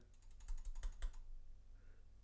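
Rapid clicks on a computer mouse while playing a golf video game: a quick close burst of about a dozen sharp clicks lasting about a second, then quiet.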